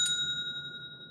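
A small metal counter bell, like those on old shop countertops, gives a single clear ding that rings on as a steady bright tone over quiet room noise.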